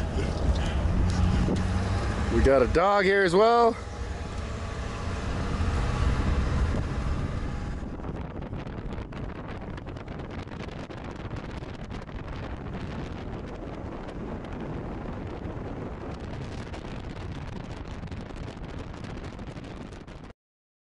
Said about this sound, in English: So we're here on the back of a truck,